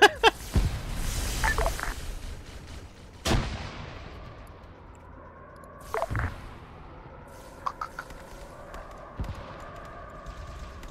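Gunfire in Arma 3 during a Halo-themed boarding of a Covenant cruiser: a few heavy, separate shots boom at wide intervals, each trailing a low rumble, over a quiet ambient bed.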